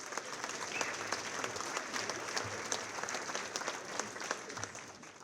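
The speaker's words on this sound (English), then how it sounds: "Bob, Bonnie, and Barb, please give them a round of applause." An audience applauds at the Missouri Restaurant Association Legacy Ball, a banquet hall setting; many hands clap in a dense, steady wash for several seconds at moderate volume, with no voices over it.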